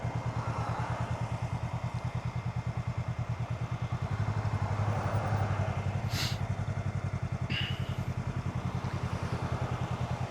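Honda Rebel 500 motorcycle creeping forward slowly in the friction zone, its steady low engine thrum pulsing evenly and close throughout, with a brief clatter near the end.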